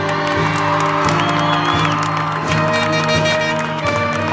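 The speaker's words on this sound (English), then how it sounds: "Let's give them a round of applause" Audience at a high school graduation ceremony for the class of 2023 applauds and cheers, a dense continuous clatter of clapping with whoops and shouts rising over it, loud and sustained throughout.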